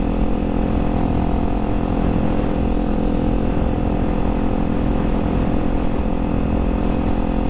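A motorcycle engine braking with the throttle closed while coasting to a stop, a close, loud, steady drone that holds an even pitch without breaks.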